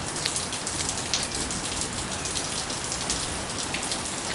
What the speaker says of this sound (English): so you're hearing a little bit of rain